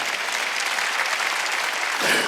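Congregation clapping during a Korean church worship service: a steady, dense wash of hands from many people, close and fairly loud, swelling slightly near the end.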